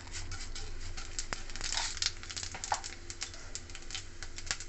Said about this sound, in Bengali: ওই তেলে দিয়ে দেবো 5 ফোড়ন